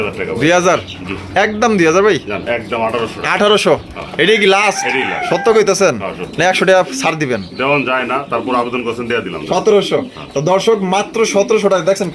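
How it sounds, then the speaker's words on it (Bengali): Chickens crow and cluck repeatedly at a pigeon and poultry seller's place, loud and close, while someone talks continuously over the birds. "একেবারে চিল্লা চিল্লি শুরু হয়ে গেছে মুরগিরা"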